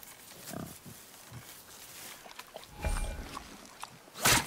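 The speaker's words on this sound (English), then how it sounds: "The wild boar's hide is thick." A wild boar in God of War grunts and snorts in short scattered bursts, fairly close, over a quiet ambient background, with a louder rustling burst near the end.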